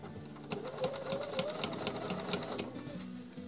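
A Bernina sewing machine runs steadily with a bias binder foot attachment, its rapid needle stitching buzzing close and continuous with a light mechanical rattle.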